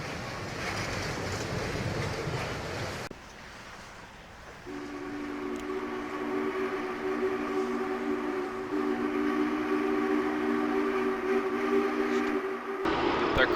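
An SP&S 901 Challenger steam locomotive on a test run, with a broad rumble followed by a long, steady steam whistle that holds for several seconds over continuing background noise.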